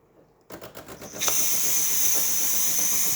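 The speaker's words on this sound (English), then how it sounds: "It's going to get the rest of that steam out first." A DeLonghi Magnifica espresso machine purges leftover steam before dispensing hot water: a short burst of pulsing chugs, then a sustained, close hiss of escaping steam.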